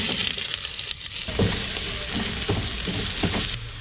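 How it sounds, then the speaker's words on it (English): Onions fry in a pan at the start of Nepali dal bhat, giving a steady, close, fairly loud sizzle with a few soft stirring knocks scattered through it and no talking. "So the first thing you do is put the onions in the pan."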